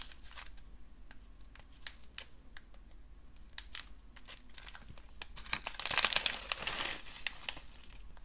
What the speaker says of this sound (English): Let me take them out of the bag.